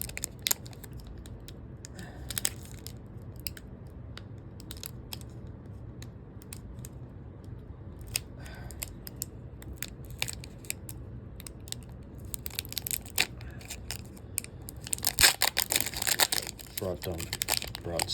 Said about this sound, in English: Brought scissors to go faster.